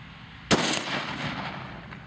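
A single loud rifle shot fired while hunting, a sharp close crack followed by a rolling echo that fades over the next second and a half in open country.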